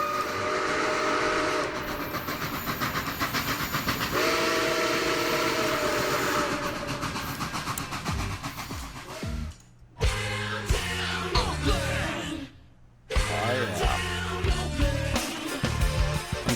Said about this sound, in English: We've got another train gonna roll through.